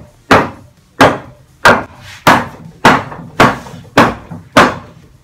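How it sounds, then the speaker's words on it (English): A hammer beats a wooden pillory prop in eight sharp, loud strikes at an even pace of about one blow every 0.6 seconds, each ending in a short decay, with no talk. "The purpose of beating it with the hammer is to make it look old and rickety and"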